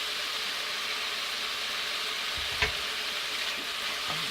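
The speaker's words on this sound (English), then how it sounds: "And now we put in the green onion." Green onion frying with potatoes in a pan makes a steady, dense sizzle that continues unbroken, with one brief soft knock partway through and no speech.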